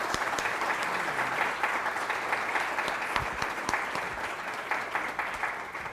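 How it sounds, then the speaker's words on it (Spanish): Steady, dense applause from an audience at a public dialogue forum fills the whole stretch, with even clapping sustained from start to finish and no voices over it. "lo recibimos con un aplauso"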